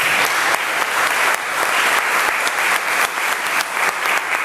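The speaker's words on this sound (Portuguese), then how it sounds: "Então vamos dar uma salva de palmas para Jesus." A congregation at a church theological conference claps loudly and steadily in dense, sustained applause that holds an even level throughout.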